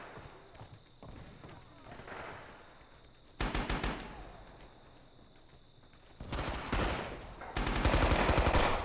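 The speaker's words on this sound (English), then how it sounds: "Explosions in the distance there." Distant explosive bursts and gunfire rumble in the video game Rising Storm, with several louder booming volleys and continuous battle noise in the background.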